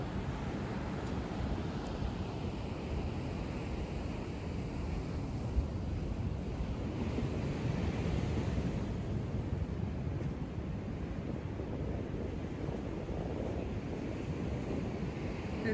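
Ocean surf rolls steadily onto the beach at Playa Mahahual in Oaxaca under an overcast sky, a continuous broad wash of waves mixed with wind rumble, with no talking.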